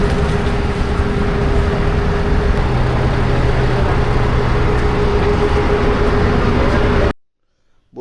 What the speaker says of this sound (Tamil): இப்போ போட்டும் கிளம்பிருச்சு.